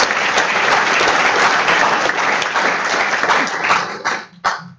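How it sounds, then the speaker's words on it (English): A loud, sustained round of applause from an audience at a county board of education meeting, honoring students, with dense clapping that fades near the end. "So let's give those a round of applause."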